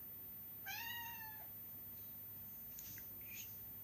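A domestic cat gives one clear, drawn-out meow close by, followed by a few faint, short chirps against a quiet room hum.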